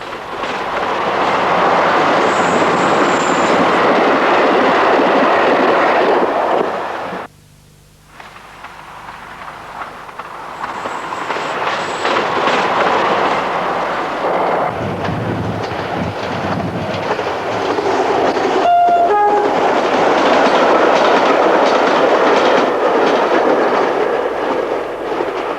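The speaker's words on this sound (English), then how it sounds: "Regular motive power came in the form of Class 47s, seen here at Dent, Kirkby Stephen and Horton in Ribblesdale." A Class 47 diesel locomotive-hauled train on the Settle and Carlisle line rumbles and clatters past at length. The sound is loud and steady, broken by a brief drop and a short horn-like tone near the end.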